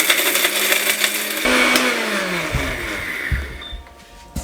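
An electric grinder whirs loudly as it grinds whole spices into chaat masala powder. The motor climbs to a steady, rough buzz with rattling, then winds down toward the end, with no talking over it.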